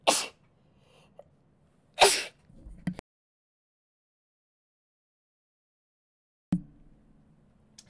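Two sharp, close sneezes about two seconds apart, each a sudden loud burst, followed by a short breathy sound and then a long quiet stretch before brief faint noise at the end.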